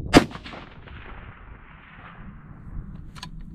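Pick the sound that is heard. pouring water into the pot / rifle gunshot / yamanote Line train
rifle gunshot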